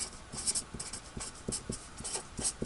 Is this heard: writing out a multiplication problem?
yes